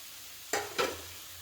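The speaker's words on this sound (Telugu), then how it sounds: "ఇలా పల్లీల పౌడర్ని కూడా కాసేపు వేయించుకుందాం" Ground peanut powder and field beans frying in a pan for a spicy broad-bean curry, two short stirring scrapes over a low steady hiss, close and moderately loud, no voices.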